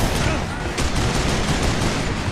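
Gunfire in the Western shooter Call of Juarez: Bound in Blood, a dense, continuous burst of loud shots with no break across the short stretch.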